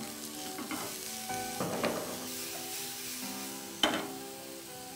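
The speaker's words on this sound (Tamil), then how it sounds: "அதனால் அதை போட்டு சாத்தே பண்ணிவிட்டு" French beans and mushrooms sauté in a hot pan, a steady sizzle broken by the scrape and clatter of stirring, with a few sharper knocks of the utensil against the pan.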